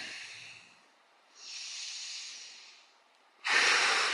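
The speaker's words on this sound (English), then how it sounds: "1 to 2 minutes of nasal breathing in through the nose, out through the mouth" Slow, close breathing exercise: a soft hissing inhale through the nose, a pause, a longer airy exhale through the mouth, then another forceful breath beginning, with no talking.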